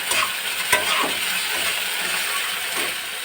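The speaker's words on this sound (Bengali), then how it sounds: "তো এটা দিয়ে আমি ভালো করে একটু পেঁয়াজটা আর এই ধনে আর জিরে বাটাটাকে একটু ভালো করে কষিয়ে নেব" Onion and a coriander-cumin paste fry and are stirred in a pan for a chicken leg kosha dish, giving a continuous, close, loud sizzle with occasional scraping and clinking of the spoon.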